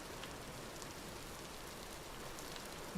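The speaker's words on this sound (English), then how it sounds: "Why has it got to rain so much?" Steady rain in the survival game Vintage Story, a continuous even hiss of drops falling on surfaces with no pauses and no voices.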